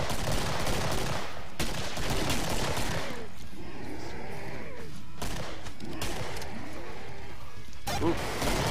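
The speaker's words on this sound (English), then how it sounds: "I'm getting headshots with this pistol." Gunfire in the Killing Floor video game, dense, loud bursts of shots and impacts packed together with chaotic crashes throughout, with a player's voice talking in places.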